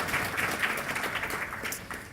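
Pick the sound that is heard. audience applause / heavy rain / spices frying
audience applause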